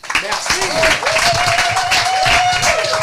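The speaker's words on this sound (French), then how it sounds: "on l'applaudit" An audience at a Paris speakership event applauds a speaker, steady dense clapping filling the full length with a voice speaking over it and tonal music or feedback lines running through.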